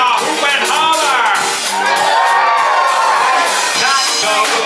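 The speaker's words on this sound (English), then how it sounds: "Let me hear y'all hoop and holler." An audience at the Frontier Follies 50th Celebration Show whoops, hollers and cheers loudly and continuously, a dense roar of voices with shouts and high whoops, close and lively.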